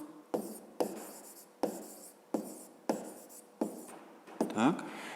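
Handwriting with a pen on paper during a math exercise, a series of about seven sharp strokes and scratches in a steady rhythm, close and quiet, with no one talking.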